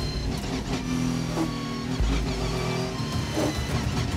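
A Volvo race car engine revs hard at high RPM, a loud, close, continuous buzzing roar with rising and falling pitch as the car is driven on track.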